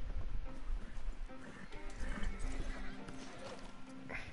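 A horse in the Red Dead Online video game, hooves clip-clopping in a quick rhythm with a whinny, close and fairly loud against game background noise.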